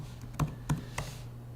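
Three quick, light keystrokes tap on a computer keyboard at close range, evenly spaced in a quiet room.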